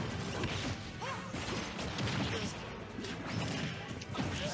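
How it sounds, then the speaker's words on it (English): Repeated forward smash attacks from Cloud in Super Smash Bros land in quick succession, sharp crashing hits and whooshes over busy game sound, with some voices faintly underneath. "Those were a lot of forward smashes coming out from Cloud in a short amount of time."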